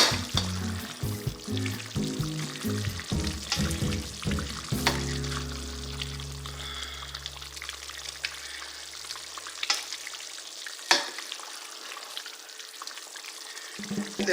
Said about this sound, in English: I wanted to go ahead and start getting this sauce into the pan